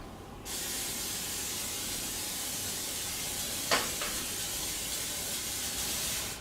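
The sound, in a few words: cooking spray sprayed into pan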